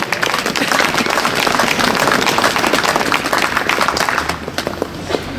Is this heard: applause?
yes